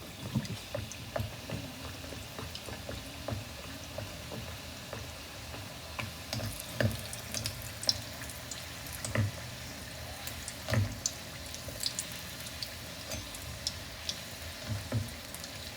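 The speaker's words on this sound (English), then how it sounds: "I'm going to slide this katori in the hot oil" A katori chaat basket fries in hot oil with a low, quiet bubbling sizzle, broken by intermittent soft clicks and taps of a utensil.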